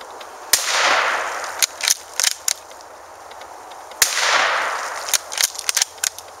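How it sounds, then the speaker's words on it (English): A 1944 Stevens Model 59A bolt-action .410 tube-fed shotgun fires two loud, sharp reports about three seconds apart outdoors, each followed by a long rolling echo and scattered clicks and clatter of the action. "we're gonna shoot a couple of rounds."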